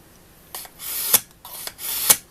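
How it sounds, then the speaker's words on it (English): Kitchen knife drawn across ceramic sharpening sticks to prepare it for reed work: two rasping strokes, each rising to a bright scrape at the end, close and fairly loud with no talk. "all you need to do is just pull your knife through"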